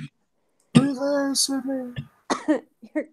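A person coughs a few times, close and fairly loud, with short breathy bursts separated by brief pauses.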